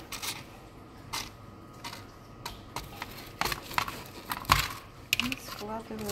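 Sharp, irregular knife chops and taps on a board, a dozen or so quick strikes with clinks between them.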